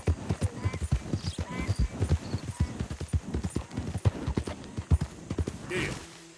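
Galloping horse hooves in a PS4 video game pound out a fast, steady clip-clop rhythm, loud and close throughout, with a faint whinny-like tone near the end.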